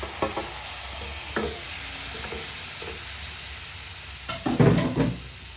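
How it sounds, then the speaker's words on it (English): Meat going into a pot for yam porridge, a soft sizzle with a few light scrapes and stirring knocks, then a louder burst of frying and clatter near the end, close by with no speech. "Just gonna add the meat."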